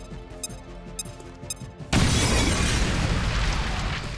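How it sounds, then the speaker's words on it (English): A grenade detonates in XCOM Chimera Squad: quiet game ambience and faint clicks give way to a sudden loud explosion with a broad crackling burst that rumbles on for a couple of seconds. "Throwing grenade!"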